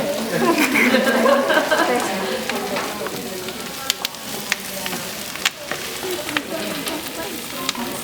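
Onions fry and sizzle steadily in a pan at home, a broad crackling hiss with occasional sharp pops and spatters, fairly close and continuous throughout, with no speech.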